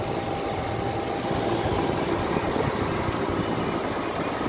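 Engine of a 2021 Mahindra XUV700 running with the hood open, a steady close idle drone with a fine rapid clatter, continuous and even throughout with no voices.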